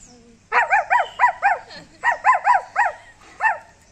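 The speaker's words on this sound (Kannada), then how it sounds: "ನಾಯಿ" A dog barks repeatedly, about a dozen sharp barks in two quick bursts, loud and close.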